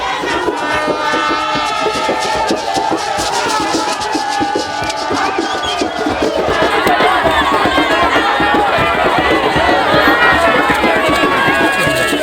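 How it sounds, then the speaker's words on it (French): A jubilant crowd waits at the Bukavu waterfront for a benefactor's boat to dock: a dense, loud, unbroken roar of many voices shouting and chattering close by. "une foule en liesse attend l'arrivée de cette bienfaitrice"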